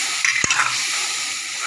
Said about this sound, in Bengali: দিয়ে ভালো করে কড়াই নাড়তে থাকবো